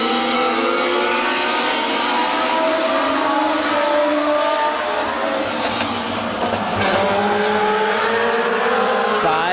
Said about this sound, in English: Dennis Knox from the back of the field in the number 62 car, racing for 2nd